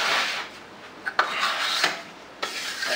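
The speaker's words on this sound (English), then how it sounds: "I clean off the trowel." Steel drywall trowel scraping and swiping across wet joint compound on a wall repair, several close rasping strokes with brief sharp scrapes between, no talking.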